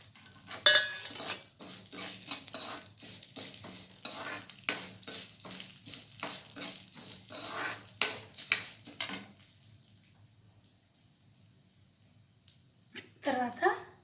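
Split black gram with husk being dry-roasted in a pan for a spice powder, with a spoon stirring and scraping in quick repeated strokes close by, a soft sizzle underneath, a brief pause, then more stirring.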